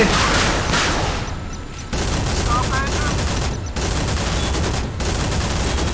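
Dense naval gunfire from warships in the Modern Warships video game, a continuous loud barrage of rapid shots and booms with short gaps, under excited commentary.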